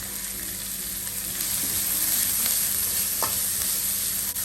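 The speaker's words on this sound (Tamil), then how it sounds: "நல்லா வதங்கிட்டு இருக்கு" Shredded cabbage stir-frying for veg fried rice, a steady close hiss of frying that swells slightly midway, with a single spatula knock against the pan.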